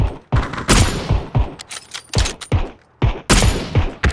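Sharp, loud gunshots from an SKS rifle in a video game crack out in rapid, irregular bursts, each with a short tail, close and dominant with no voices.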